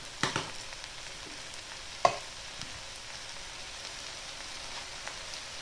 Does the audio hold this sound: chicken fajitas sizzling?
yes